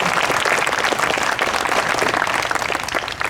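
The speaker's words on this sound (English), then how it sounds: "That's an applause line" Loud, sustained applause from a crowd at a high school groundbreaking ceremony, dense and steady throughout with no pause.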